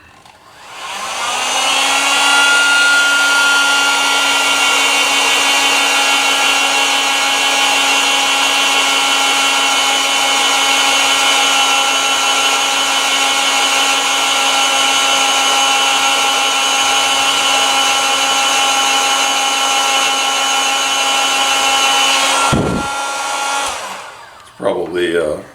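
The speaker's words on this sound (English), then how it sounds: "I'm going to run it up with my heat gun a little bit." A heat gun blows hot air onto an ambient air temperature sensor, spinning up to a loud steady whining hum that holds for about twenty seconds before winding down abruptly.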